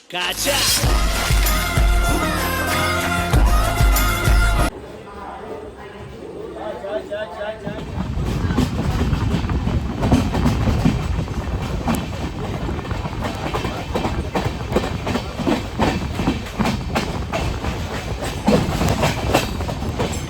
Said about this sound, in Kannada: ನಾನಿವಾಗ ಇರೋದು ಮಂಗಳೂರು ಸೆಂಟ್ರಲ್ ರೈಲ್ವೆ ಸ್ಟೇಷನಲ್ಲಿ